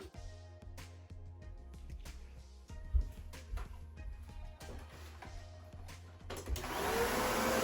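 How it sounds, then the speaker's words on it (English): A household vacuum cleaner runs with a steady motor hum, close by and moderately quiet, the whine growing louder and brighter near the end as the machine moves. "Vacuuming for me is the final thing in any quote unquote project that I'm doing."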